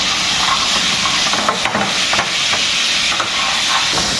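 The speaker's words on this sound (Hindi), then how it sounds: "अच्छा से फ्राई करिए" Chicken pieces frying in a salted karahi give a loud, steady, dense sizzle that runs unbroken through the whole stretch, with faint stirring scrapes and no voices.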